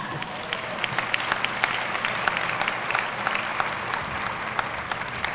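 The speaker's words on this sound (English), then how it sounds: "Round of applause." Applause from a graduation ceremony audience honouring the faculty, a dense steady clapping crowd with sharp individual claps standing out, sustained at even loudness throughout.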